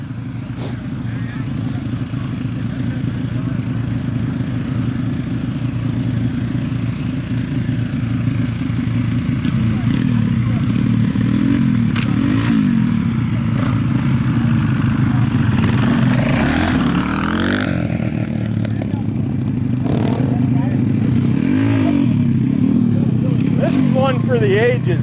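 Motorcycles race on an ice track, their engines droning steadily throughout with revving swells and passes, while a person talks over the engine noise.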